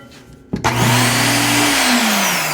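A Makita power saw with electronic brake kicks on after a click and spins up to a loud, steady high-pitched whine that holds close and continuous.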